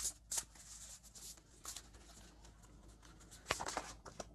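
Oracle cards shuffled by hand during a tarot-style reading, soft papery riffles and slaps in scattered bursts, close and fairly quiet with no talking.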